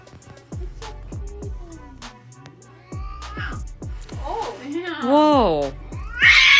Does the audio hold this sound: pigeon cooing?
no